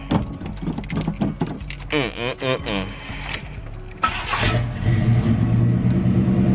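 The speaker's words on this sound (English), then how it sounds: "Let me go and start the car up." Keys jangle and a car engine cranks and catches, settling into a steady idle close by, with someone talking over the first part.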